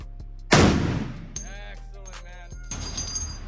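A .50-caliber round fired at a shooting range: one powerful, close blast with a long rumbling decay, followed by clicks and mechanical rattles.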